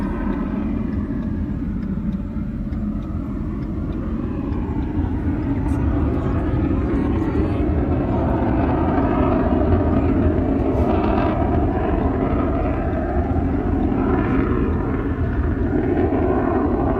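A continuous low rumble of a plane engine rolling along the ground, steady and fairly loud, with voices speaking indistinctly over it.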